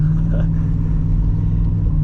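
A Holden VN Calais with a 5.0L V8 running in drive, a deep steady low rumble with a lazy burbling pulse, heard from inside the car, loud and constant.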